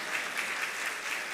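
A crowd at a Jain monk's discourse claps in a steady, dense burst of applause, loud and close, with no voices over it.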